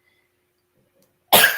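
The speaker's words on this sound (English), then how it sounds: "Told y'all I'm struggling with this cough." After near silence, a person gives one sudden, loud, rasping cough close by at the very end, alone.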